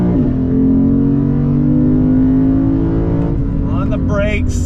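A deep V8 engine in a 2022 Lexus IS 500 sedan roars steadily and climbs in pitch as the car accelerates hard through the gears, loud and close, with a voice exclaiming near the end.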